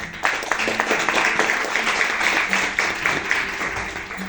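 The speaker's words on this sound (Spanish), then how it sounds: "Aplauso, por favor." An audience at a Spanish medieval music concert claps steadily for a few seconds, a dense patter of many hands with a voice or two faintly underneath.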